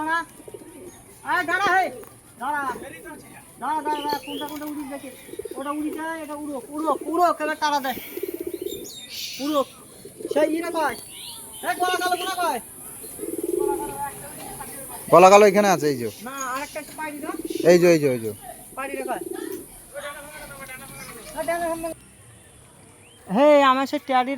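Loft pigeons being brought down coo and warble in repeated throaty calls close by, mixed with chatter and voices talking throughout.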